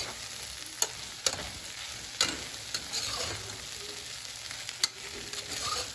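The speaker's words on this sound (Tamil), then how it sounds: "இப்போ நம்ம என்னென்ன காய்கறி வேணுமோ போட்டுக்கோங்க" Vegetables frying with ginger and garlic in a pan for coconut milk rice, a steady close sizzle broken by occasional sharp clicks of a utensil against the pan.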